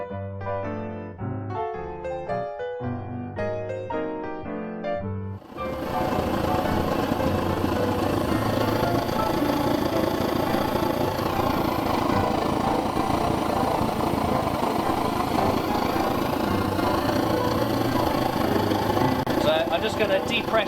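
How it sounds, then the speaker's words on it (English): A vintage brass paraffin/kerosene blow torch, pumped up to pressure, gives a loud, steady, close-up roar after a brief stretch of voice. "now I'm going to pump it quite a bit to get the pressure up and really get that flame nice and hot"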